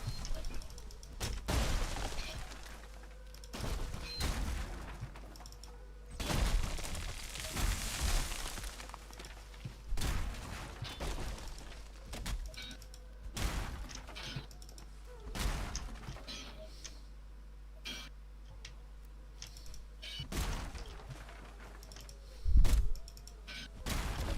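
In the video game Valheim, an axe chops down trees, giving repeated heavy impact thuds at an irregular pace with creaking and crashing over a low, steady rumble.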